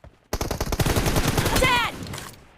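Fast automatic gunfire in a team deathmatch shooter game, a loud, close burst of rapid shots lasting over a second, followed by a short game voice cue.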